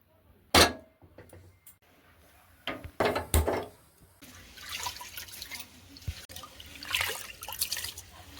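Rice being washed in water in a cooking pot for a Bengali home-cooked meal, with splashy sloshing and dripping in short bursts, a few sharp knocks, then steadier swishing water toward the end.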